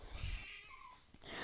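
A Persian mother cat calls for her kittens with a short, faint, drawn-out meow in a quiet indoor room, with a soft rustle at the end.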